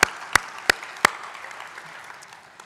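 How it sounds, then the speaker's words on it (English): Four sharp, evenly spaced claps, loud and close, ring out at an awards ceremony before fading into a quiet hall murmur, with no full crowd applause following. "Yeah, you can applaud yourself. I will applaud you as well."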